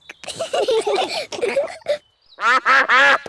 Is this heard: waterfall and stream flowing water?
no